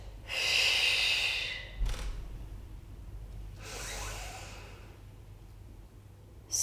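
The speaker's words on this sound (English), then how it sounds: "Breathe in. Breathe out." Deep exercise breaths during a weightlifting workout: two long, airy breaths with a brief pause between them, close to the microphone and alone over a low background hum.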